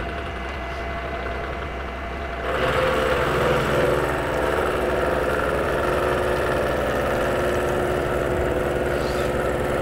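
Milling machine face milling P20 steel with an APMT1604-insert face mill at about 1,000 RPM: a steady mechanical drone that rises and thickens as the cut engages after a couple of seconds, then continues evenly and close up.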